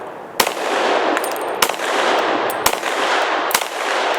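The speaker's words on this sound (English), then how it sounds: "357 SIG. We're running a Glock 32 Gen 4 through" A Glock 32 Gen 4 pistol fires .357 SIG rounds outdoors, four loud, sharp, widely spaced shots over steady background wind noise, no speech.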